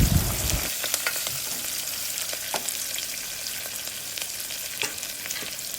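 Tempering spices and vegetable pieces frying in oil in a kadai for vegetable semiya and bansi rava upma, a steady close sizzle with scattered sharp crackles and pops, after a brief low rumble at the start, with no talking.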